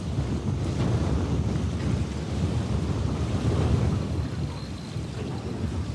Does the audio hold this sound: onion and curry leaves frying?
no